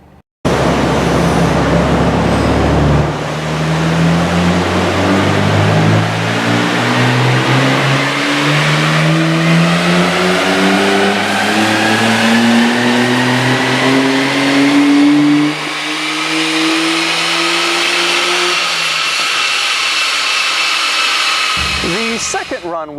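A Nissan Skyline GT-R engine revs hard on a dyno run, climbing steadily in pitch for about twenty seconds before cutting off, loud and close, with no talking.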